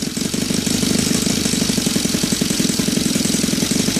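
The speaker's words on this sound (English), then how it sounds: "It's idling like this probably for a couple of minutes now." Saito FA-270 gasoline model aircraft engine with CH ignition, fitted with a Top Flight prop, idles steadily close by, a loud, even chugging putter with a regular low pulse.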